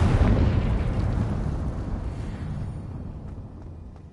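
A Confringo spell explosion in the video game Hogwarts Legacy bursts with a loud, booming blast, then decays into a long rumbling tail that fades over several seconds, with no voices over it.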